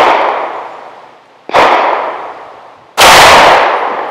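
Sig P365XL pistol firing HST rounds over a chronograph outdoors, three loud, sharp gunshots spaced about a second and a half apart, each ringing out with a decaying echo.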